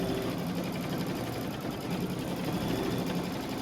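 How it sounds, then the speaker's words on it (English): A quilting machine stitches a Kimberbell pillow panel with a steady, fast, mechanical whir and chatter, running continuously and close with no pauses. "So the quilting is going much faster."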